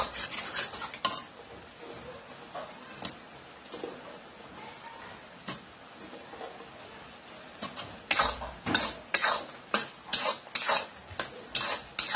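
Fried veg Manchurian balls being added to sauce and stirred in a pan, with soft scraping and spoon knocks that grow into a run of sharp, rhythmic metallic clanks toward the end.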